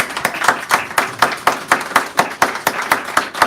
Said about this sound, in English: give this man a wonderful round of applause as he comes up here and holds forth